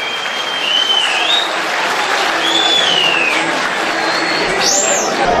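A hall audience at a Turkish association night gives sustained, dense applause, a loud, even wash of many hands clapping at once, with a faint whistle or bird-like tone gliding above it.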